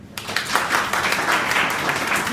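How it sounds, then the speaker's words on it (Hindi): Students at Prayag Inter College in Bilariyaganj break into applause for a classmate, a steady wash of clapping from a classroom group that swells after a brief quiet start. "वेरी गुड, रुचि के लिए ताली दीजिए।"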